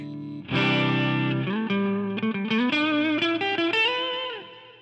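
Electric guitar on a crunch tone through a Boss GT-8 multi-effects processor: a chord rings out, then a run of picked notes and double-stops, slightly overdriven, played alone.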